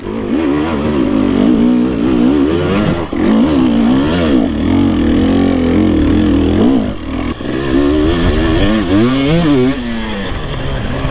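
A motorcycle engine with a tuned ECU revs up and down repeatedly, loud and close, with rising and falling pitch sweeps and brief dips between throttle blips.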